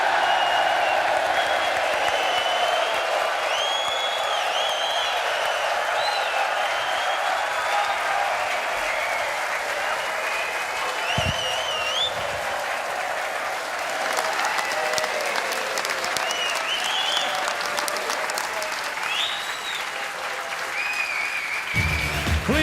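A large snooker crowd at Alexandra Palace for the Masters semi-final roars and applauds in a sustained wall of clapping, with whistles and cheers rising above it, loud and unbroken for over twenty seconds.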